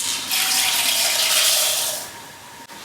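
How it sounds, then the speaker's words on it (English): About a cup of wild rice pours into a pot holding roughly four cups of water, a steady bright hiss and patter lasting around two seconds before trailing off. "I'm going to throw in about a cup of wild rice."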